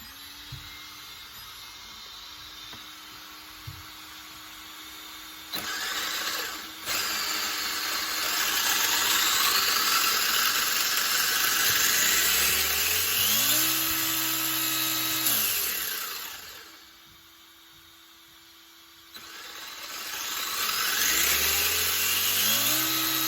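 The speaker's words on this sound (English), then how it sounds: "I'll show you the difference of how much more power I've got with a brushless motor" A WLtoys 124019 RC car fitted with a brushless motor revs in several bursts, its high electric whine sweeping up and down in pitch, with short pauses and a quieter gap between runs.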